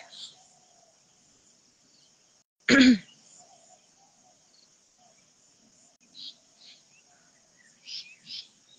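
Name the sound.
little bird calling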